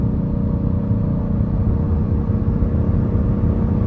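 A 2024 Buick Encore GX Sport Touring accelerating at about half throttle, heard from inside as a steady, loud, low engine and road rumble that holds even across the whole stretch, with no talking.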